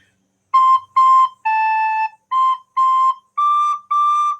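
A recorder plays the opening line of a simple song in a lesson: seven clean, separate whistling notes, each held about half a second with one longer note near the start, close and clear with no talking.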